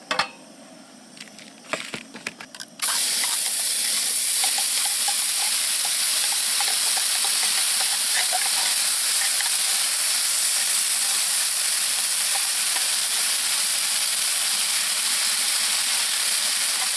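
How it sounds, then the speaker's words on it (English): Gravy fries hard in a pan on a camp stove beside a remote river, a loud, dense, continuous sizzle that starts abruptly after a few seconds of quieter handling noise and holds steady. "Did you mean to fry the gravy, Doug?"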